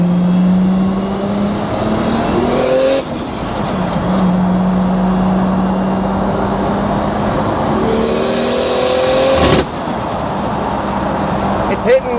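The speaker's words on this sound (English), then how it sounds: "It's hitting a boost cut because the fuel is ever so slightly too lean." Nissan S14 engine running slightly lean, revving and hitting boost cut: a loud, steady drone under load with a rising pitch and abrupt cutouts, a voice talking over it.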